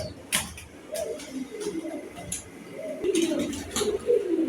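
Several pigeons coo softly and repeatedly nearby, low rolling calls overlapping in a loose rhythm, with faint fluttering and background rustle.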